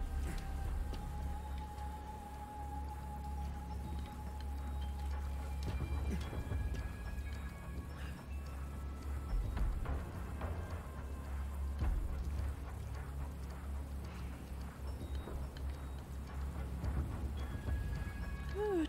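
Steady rain pours down across a spooky island in the video game Resident Evil 4 Remake, a continuous hiss with low rumbling beneath and faint scattered tones, with no talk over it.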